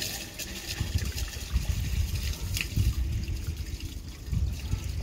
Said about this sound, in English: customer's just done a flush test